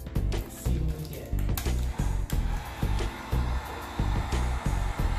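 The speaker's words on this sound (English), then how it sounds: "now I'm gonna try to move this around a bit with this heat gun" A heat gun on medium setting blowing over freshly poured resin in a coaster mold, a steady airy roar broken by repeated low bumps and knocks as it is moved around close by.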